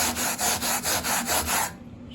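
Rhythmic back-and-forth scuffing strokes scrape rust off the metal of a 1960 Volkswagen Beetle gas tank, about seven close, even rubbing passes, then a quiet tail.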